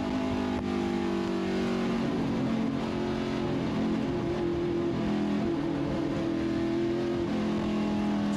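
A V8 Supercar at the Winton 300 races through a sweeper corner, its engine droning steadily at a constant, strong pitch with slight rises and falls in revs, heard from nearby without commentary over it.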